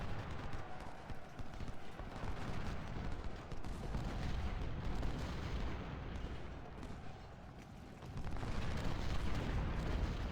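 Distant rolling musket and artillery fire from a Civil War battle at Antietam in a strategy video game, a continuous rumbling crackle of massed volleys over a low battlefield din.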